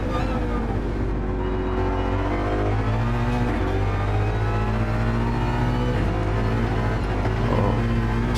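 Race car engine in Gran Turismo 7 during a 90-minute endurance race, a sustained high, buzzing drone held near peak revs with slight wavering, with a commentator talking over it.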